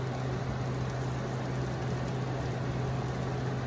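Cornmeal mush slices frying in oil in a pan over medium-high heat, giving a steady, even sizzling hiss with a constant low hum beneath it and no talk.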